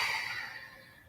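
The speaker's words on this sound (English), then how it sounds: "Deep inhales through the nose" A slow, deep inhale drawn in through the nose during a morning yoga session, a soft breathy hiss that fades steadily over about a second.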